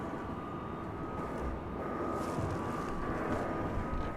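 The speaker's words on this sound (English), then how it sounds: "here comes our first arrival of the night, American Flight 1939 from San Diego" An American Airlines jet arrives at DFW airport at night, heard as a faint, distant, steady engine rumble with a thin whine that swells slightly as it nears.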